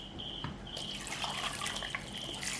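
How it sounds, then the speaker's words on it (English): Water is poured into a cooking pot in a kitchen, a steady splashing trickle running continuously from close by without a break. "Add water."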